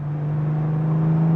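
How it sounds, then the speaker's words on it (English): Jaguar Mk2 with a normally aspirated 4.3-litre straight-six on twin SU carburettors, a steady low engine drone holding an even pitch for a brief moment, loud and close with no voices. "You get that proper straight 6 bellow."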